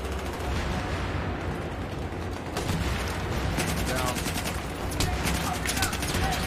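Sustained gunfire from the video game Battlefield 3 rattles in dense, rapid bursts, loud and continuous through the whole stretch with mechanical clatter mixed in.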